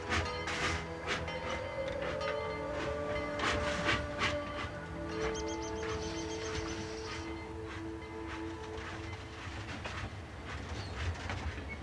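A train pulls away from a small-town station, wheels clattering in a steady clickety-clack with squealing tones and a brief horn-like whistle, loud and close and fading slightly over time.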